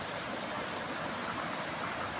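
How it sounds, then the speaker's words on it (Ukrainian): Running water of a forest stream rushes steadily and evenly throughout, a close continuous hiss with no voices. "Я так люблю дивитись, як біжить вода люблю слухати цей шум"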